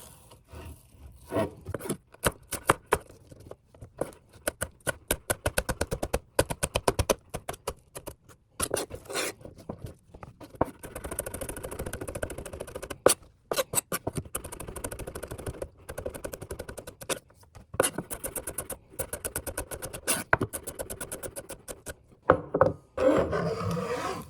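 A knife finely dices half a red bell pepper on a cutting board, giving long runs of rapid, crisp chopping taps with short pauses between them, close and clear.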